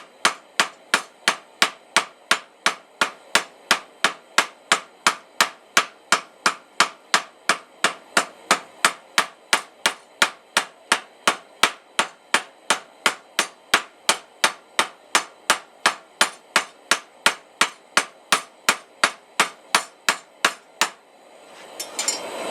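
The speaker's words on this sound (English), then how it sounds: "I'm doing light blows. Not really lifting up the hammer all that much." Steady, evenly spaced light hammer blows forging hot metal into a leaf key chain ring out one after another, dozens of strikes in a brisk rhythm, close and loud with no talking.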